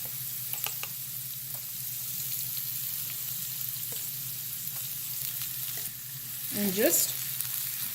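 Minced garlic sizzles steadily in a hot pan while saag is being made, a soft continuous frying hiss with a few utensil taps and a louder burst near the end; a voice speaks briefly.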